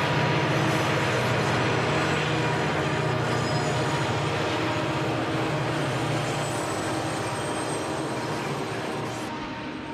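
Santa Fe EMD GP30 diesel locomotives from the early 1960s rumble past at Cajon Pass, a dense, continuous roar of engines and rolling wheels, close and loud throughout, easing slightly toward the end.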